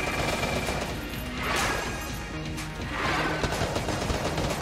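Dense bursts of rapid gunfire from allied shooters in the bullet-hell game Enter the Gungeon, loud and continuous with swelling volleys and crashing impacts.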